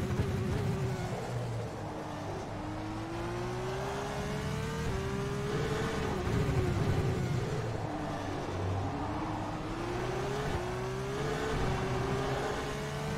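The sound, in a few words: Formula 2 race car engine in video game rFactor 2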